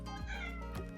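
A cat gives a pair of drawn-out meows, close and fairly quiet against a steady low hum, with no talking.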